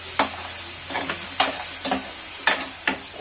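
Onions and green chillies fry in a pan for egg biryani, a steady sizzle close by, broken by several sharp scrapes as a spoon stirs the mixture.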